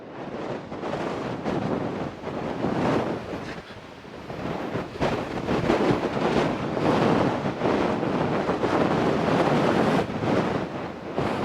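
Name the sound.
wind blowing on coastal trail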